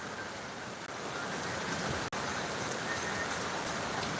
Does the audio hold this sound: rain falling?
yes